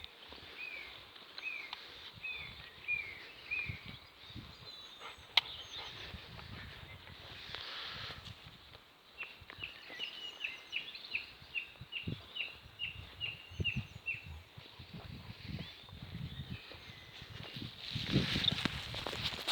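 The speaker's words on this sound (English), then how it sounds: "Just have a listen to the birds." Birds chirp and call in repeated short bursts over a soft outdoor background, with occasional footsteps or rustling nearby.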